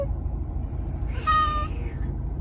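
A cat gives a single drawn-out meow, fairly clear and close against a low background rumble, with no talking.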